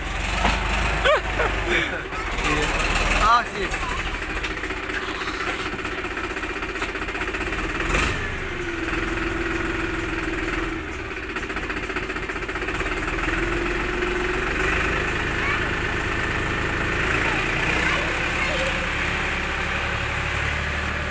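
A tractor engine runs steadily throughout while digging soil, with a low rumble and rattling, clattering mechanical noise, loud and close, with brief knocks near the start.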